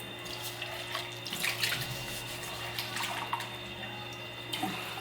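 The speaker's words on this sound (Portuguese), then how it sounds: "depois de fazer isso, você pega um copo e vai botar água." Water pours into a cup in a kitchen, a continuous splashing trickle with small drips, steady and fairly close, alone without talk.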